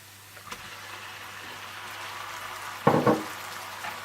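Chopped tomatoes hit hot oil with fried ginger and garlic in a pan, a sudden loud sizzle bursting up over a quiet background hiss, then fading back down.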